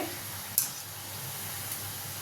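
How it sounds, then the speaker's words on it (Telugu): Wheat flour gavvalu fry in hot oil, a steady, soft sizzling hiss with one brief sharp crackle near the start, continuous and close with no talking. "మళ్ళా ఇలా మంచిగా ఫ్రై చేసుకోవాలి."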